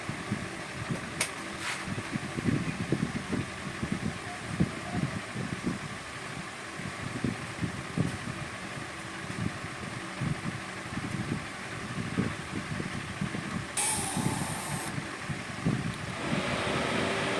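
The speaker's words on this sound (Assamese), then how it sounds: "ৰেডিঅ'টোৰ ফেনৰ চাউণ্ড শুনিছে চাগে আপোনালোকে" Radiator cooling fan on a Bajaj Pulsar NS200 motorcycle runs with a steady whirring hum, continuous and moderately quiet, with a brief hiss near the end and no talking.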